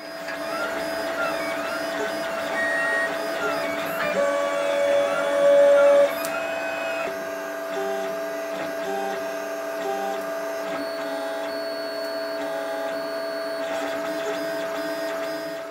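3D printer printing a plastic part, a continuous whirring of stepper motors with shifting tonal whines and hums as the head moves, steady and close with no talk.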